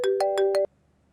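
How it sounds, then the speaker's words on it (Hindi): A phone ringtone chimes four times in a quick, even rhythm, loud and close, then cuts off abruptly into near silence. "फोन उठाओ हिमा, फोन उठाओ।"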